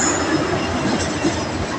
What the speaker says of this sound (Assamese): আহি গ'ল ট্ৰেইন